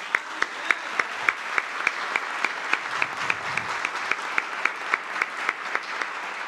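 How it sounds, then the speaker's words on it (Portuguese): Steady applause from a crowd at a parliamentary session in Salvador, with sharp individual claps repeating at a quick, even rhythm throughout. "Merece ou não merece os nossos aplausos?"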